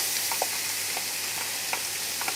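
Onions frying in a pan alongside browned lamb shank, a soft continuous sizzle with a few light stirring clicks, close but quiet, no voices.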